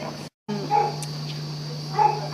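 Dog at a veterinary clinic during a wound check for a skin graft, giving a couple of short, soft yips or whimpers against a steady electrical hum, fairly close and quiet.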